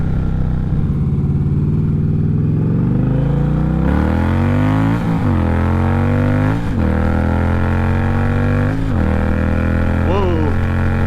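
Indian Challenger motorcycle being ridden, engine revving up through the gears in rising sweeps with shifts between them, loud and close, wind noise underneath and brief voices in the mix.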